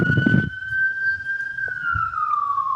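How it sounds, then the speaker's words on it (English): A police car siren wails in one long, steady, slowly falling tone, fairly clear and alone after a short burst of noise at the start. "Who's got the police siren?"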